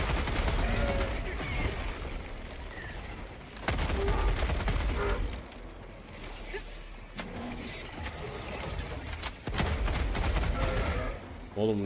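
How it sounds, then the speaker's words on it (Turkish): Breaker shotgun fire in the video game Helldivers 2 comes as several loud, broadband blasts at irregular intervals, with gunfire and engine-like rumble between them and voices faintly underneath. "Oğlum ne biçim vuruyor ya Breaker?"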